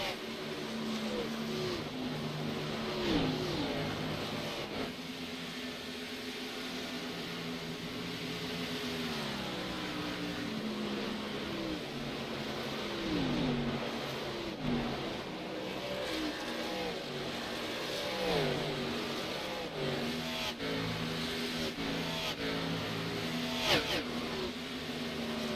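Engines of race cars in a NASCAR Xfinity-style sim race at Darlington rise and fall in overlapping revving sweeps as the pack power slides, a continuous loud roar with no talking.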